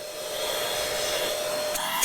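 Pet grooming vacuum and dryer running on its fan-only setting, giving a loud, steady blowing whoosh with a faint whine throughout and a couple of small clicks near the end.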